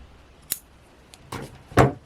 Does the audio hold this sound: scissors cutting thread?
yes